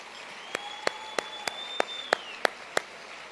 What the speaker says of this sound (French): une bonne main d'applaudissement pour toute cette gang-là en arrière